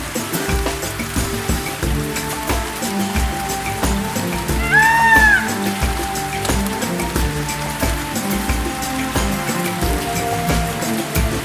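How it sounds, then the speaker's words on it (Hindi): Rain falls steadily at a forest homestay in Dandeli, beside a small river, making a continuous close hiss with a brief chirping call rising over it midway. "होटल में प्रवेश करते ही बारिश ने हमारा स्वागत किया।"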